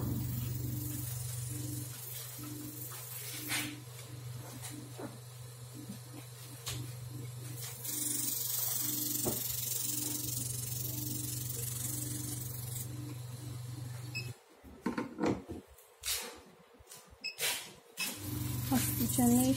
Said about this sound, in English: the spray gun.